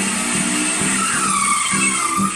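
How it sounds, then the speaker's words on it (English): A racing car sound effect plays in guitar-lesson backing music. It is a continuous high-pitched engine whine with tire-squeal-like sweeps and pulsing low notes, loud throughout. "Sounds like a racing car."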